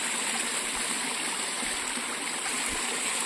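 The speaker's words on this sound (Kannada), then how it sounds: "ಫ್ರೆಶ್ ನೀರು ಹೋಗ್ತಾ ಇದೆ." A mountain stream on the Kumara Parvatha trek flows steadily with a constant close rushing wash of water, even and unbroken throughout with no voices.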